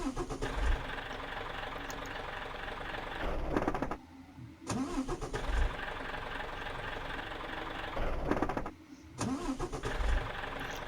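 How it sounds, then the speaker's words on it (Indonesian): A Hino RK bus engine in Bus Simulator Indonesia is cranked by its starter and catches, twice in a row, with loud grinding cranking that settles into a rough idle before cutting out, alone without talk. "Di sini yang pertama kita cek sound starter terlebih dahulu ya cuy. Untuk sound starternya kurang lebih seperti ini."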